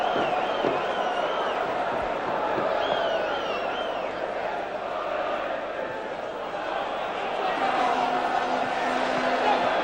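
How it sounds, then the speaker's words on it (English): Manchester United supporters booing during a 1991 match against Norwich City, a broad sustained crowd roar filling the stadium, heard at a distance beneath a commentator's voice. "It's the United fans who are booing."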